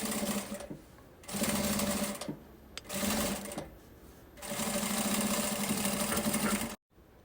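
A sewing machine stitches fabric for a children's backpack in several steady whirring bursts with short pauses between them, close and clear.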